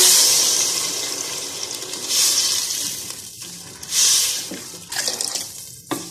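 Water gushes and splashes steadily as a litre is poured into a cooking pot, swelling in a few louder surges, with no one talking.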